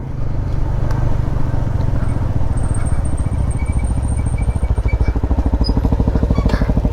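A motorcycle engine idling close by in Pakistan, a steady low rumbling putter that stays loud and even throughout.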